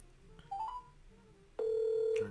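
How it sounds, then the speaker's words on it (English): Phone number dialing: a short tone, a pause, then a sustained steady telephone tone, close and clear in a quiet room. "Dialing the second one,"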